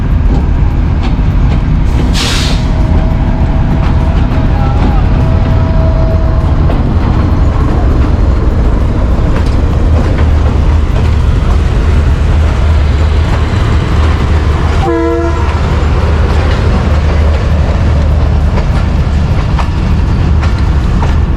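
The Millat Express passenger train, led by locomotive GU40 9039, rolls loudly and steadily into Faisalabad railway station toward platform 2, with continuous close rumble and wheel noise and a brief horn-like tone midway.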